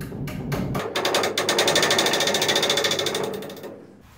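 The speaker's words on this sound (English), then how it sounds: "and then we'll tighten them up with a wrench." Rapid, buzzing mechanical rattling runs steadily for about three seconds, preceded by a few sharp clicks, as dynabolts are driven tight in a garage wall while cladding and a barrier are mounted.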